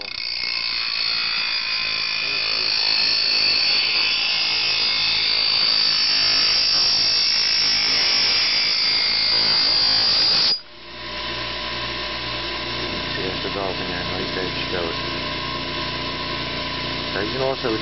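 A bench grinder sharpens a lawn mower blade, a loud steady high grinding whine that runs unbroken for about ten seconds, then stops abruptly and gives way to a quieter motor hum with faint clinks.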